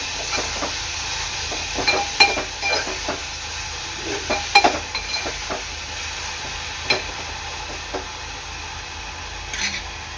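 A ground paste of coconut, chili, coriander, roasted onion, ginger and garlic sautéing in oil: soft steady sizzling with light spoon scrapes and taps, close and without speech.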